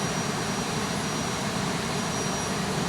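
A steady roar of jet aircraft engines in the X-Plane 11 flight simulator as planes take off at a busy airport, constant and loud with a faint high whine on top, no talk.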